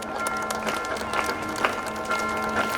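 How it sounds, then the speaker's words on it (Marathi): Audience clapping at an Independence Day ceremony, a moderate, continuous patter of many hands with a few sharper claps standing out, heard over a faint steady hum. "जोरदार टाळ्या वाजवा."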